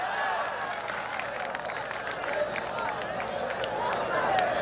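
Large outdoor crowd clapping and cheering at a kushti wrestling match, a dense continuous wash of applause mixed with excited crowd noise for the whole stretch.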